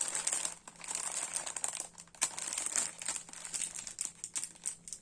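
Paper or fabric packaging from a Noz discount store haul crinkles and crackles as it is handled up close, in a dense, irregular run of sharp rustles with brief pauses and no talking.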